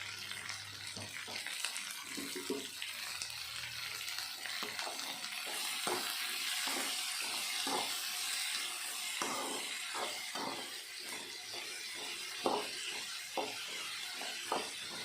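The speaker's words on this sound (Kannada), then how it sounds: "ಉಪ್ಪು ಹಾಕೋದ್ರಿಂದ ಕ್ಯಾಪ್ಸಿಕಮ್ ಎಲ್ಲ ಬೇಗ ಫ್ರೈ ಆಗುತ್ತೆ." Capsicum fries in a pan with salt, producing a soft, steady sizzle with light repeated stirring and scraping taps, fairly faint and even throughout.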